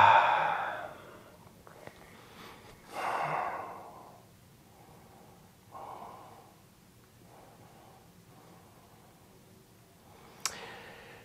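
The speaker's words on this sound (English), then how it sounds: "Take a nice big inhale through your nose and exhale out your mouth." A deep breath pushed out through the mouth during a stress-release yoga practice, a soft breathy rush at the start, a second long exhale around the middle, then quieter breathing with a faint click near the end, with no talking.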